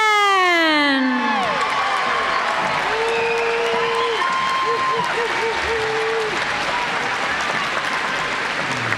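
At the SUNY Broome 2019 commencement ceremony, an audience applauds the graduates in a sustained wash of clapping and cheering, with whoops and voices rising over it.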